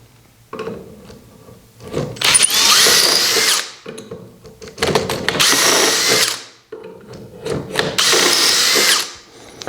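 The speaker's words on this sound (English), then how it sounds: "and then now we're drilling" A power drill whines through wood via a Dowelmax dowel jig in three sustained bursts, each a few seconds long, with short pauses and clicks between them, loud and close.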